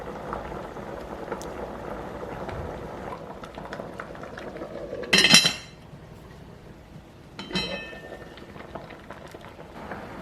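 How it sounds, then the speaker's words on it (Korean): A tomato and vegetable mixture bubbling in a pot as it is stirred, with a low steady simmer, a sharp clatter of a utensil against the pot midway and another softer knock later; no speech. "불을 켜고 재료들을 섞으면서 끓여주세요"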